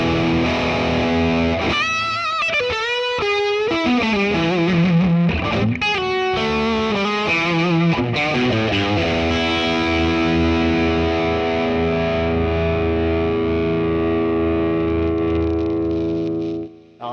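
An electric guitar plays through a Boss Katana amp set to high gain, heavily distorted with effects. Fast riffing and bends lead into a long, loud sustained chord that rings out and then cuts off abruptly, with no talk.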